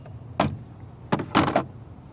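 Plastic part being pulled up and slid off the throttle body of an S10 Blazer 4.3 V6, heard as three short scraping slides close by, the last a double stroke.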